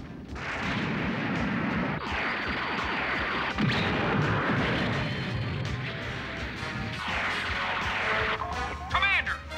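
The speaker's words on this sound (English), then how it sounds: "they're shooting at us" Cartoon gunfire from enemies attacking a vehicle team, heard as loud repeated bursts of shots and crashes with dramatic effects over the whole stretch, and voices mixed in.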